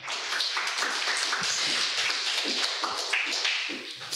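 A church congregation in Paris breaks into steady, dense clapping that fills the room evenly for several seconds, with no voices over it.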